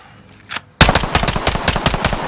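Bursts of automatic gunfire in Call of Duty: Modern Warfare, a short shot followed by a loud, rapid machine-gun volley of evenly spaced cracks lasting about a second and a half.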